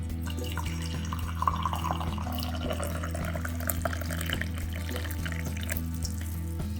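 Water from a tap runs steadily into a cup holding four or five whole cloves, a continuous close splashing fill with no talk over it.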